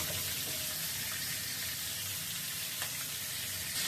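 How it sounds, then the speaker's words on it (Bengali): Fish fry in hot oil in a home kitchen, a steady close hissing sizzle that runs evenly without a break. "বাকি মাছগুলো ভেজে তুলে নিচ্ছি।"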